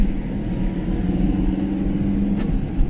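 A car driven by a learner on a public road, with a steady, close engine rumble that holds even as it gathers speed, with no voices.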